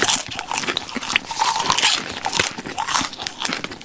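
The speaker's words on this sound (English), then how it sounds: "Someone eating popcorn at the cinema." Someone eats popcorn at the cinema, producing steady close-up crunching and chewing with crisp bursts throughout, fairly quiet, with no talking.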